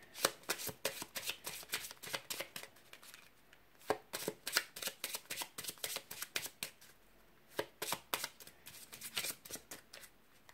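Lenormand fortune-telling card deck being shuffled close up, quick rippling riffles and soft slaps in irregular bursts across the whole stretch, fairly quiet, no voices.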